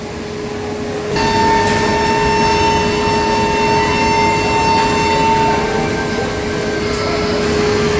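A Radhikapur Express passenger train with LHB coaches departs, rumbling steadily nearby with a sustained high tonal whine and a broadband roar that swells after the first second, continuing throughout.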